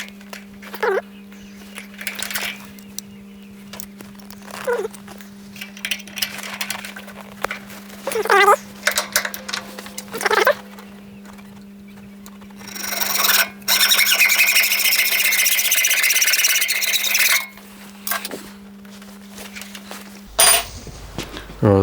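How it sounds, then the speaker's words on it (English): A hacksaw cuts through a brass rod in a workshop, with a burst of fast, bright sawing strokes mid-clip after scattered clinks and handling noises, over a steady electrical hum. "So I'm just going to use a hacksaw just to cut it."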